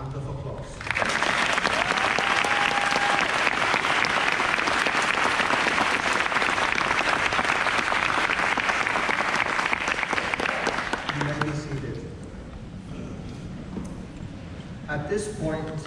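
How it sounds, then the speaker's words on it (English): An audience at a Columbia University College of Dental Medicine postdoctoral graduation ceremony breaks into loud, sustained applause for the graduates, many hands clapping for about ten seconds before fading, followed by a voice over a microphone. "Please give our graduates a round of applause."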